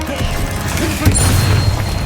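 A Confringo fire-blast spell in Hogwarts Legacy goes off as a single loud, close boom with a low rumbling tail, following a short lead-in of mechanical clatter.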